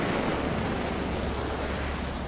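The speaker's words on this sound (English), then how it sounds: "if you hear a loud whooshing sound like this" An Apex Legends jump pad: a loud, rushing whoosh with a deep rumbling body, steady for a couple of seconds and easing slightly at the end.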